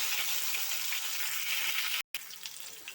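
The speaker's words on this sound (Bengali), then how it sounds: "পটলগুলো লাল লাল করে ভেজে নেব।" Pieces of pointed gourd (potol) fry in hot oil with a steady, dense sizzle that runs close and alone, broken by a brief gap near the end.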